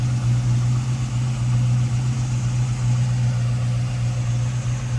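A 1935 Pontiac three-window coupe fitted with an LS1 V8 idles steadily up close, its deep, even rumble and low hum holding without a break and with no voices over it.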